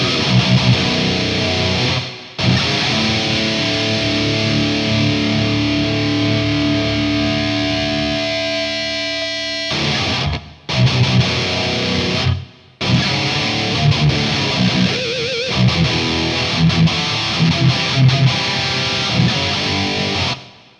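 A high-gain, distorted electric guitar plays through an AmpliTube X Space reverb pedal. Sustained chords ring out alone at steady loudness, broken by a few short pauses.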